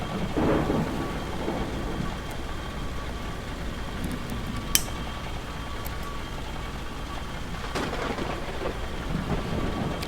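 Steady heavy rain hisses over a mountain setting in the Out of Ore game, with low rumbling thunder and a few sharp crackling strikes, continuous and fairly loud, no talking.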